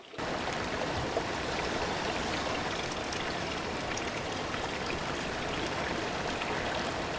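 A river rushes steadily over waterfalls in Brazil's Chapada Diamantina, a dense, even roar of flowing water heard close and unbroken throughout.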